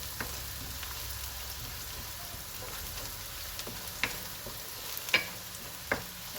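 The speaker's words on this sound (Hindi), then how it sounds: "इसमें गोश्त डालती हूँ, गोश्त को फ्राई करती हूँ, अच्छे से फ्राई करूँगी" Meat for tori gosht sizzling in a pan, a steady low hiss of frying close by, with a few sharp clinks of a utensil against the pan toward the end.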